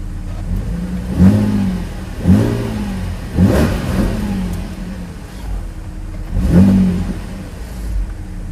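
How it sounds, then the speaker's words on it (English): An Audi A7 fitted with a CTS intake revs repeatedly, close and loud, with four or five distinct rising and falling engine pulls over a steady idle. "So I'm about to turn on the car right now."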